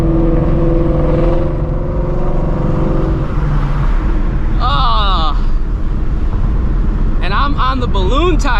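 Ford Shelby GT350 Mustang engine heard from inside while driving, a loud steady drone that drops in pitch midway, then rises and falls with gear changes as the car accelerates, with voices talking over it.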